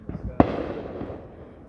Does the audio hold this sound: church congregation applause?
no